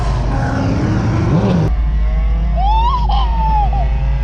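Loud, steady engine roar from race cars at a drag strip at night, with a sudden shift in tone partway through and a high squealing sweep above the rumble.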